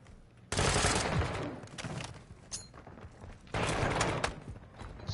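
Sustained automatic gunfire in Call of Duty: Modern Warfare 2 crackles through most of the stretch, with a loud burst at the start, a lull, and a second heavy burst near the end.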